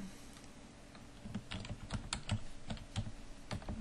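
Quick bursts of keystrokes on a computer keyboard, close and fairly quiet, clicking in an uneven rhythm as a file name is entered, with no talking.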